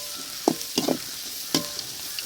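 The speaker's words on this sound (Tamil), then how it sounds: "கடுகு போடாதே வந்து வரமிளகா அப்புறம் வந்து வெங்காயம் நல்லா வதங்குது பாருங்கள்" Onions and dried red chilies fry in oil for a village-style greens dish, a constant close sizzle with a few soft stirring scrapes and no voices.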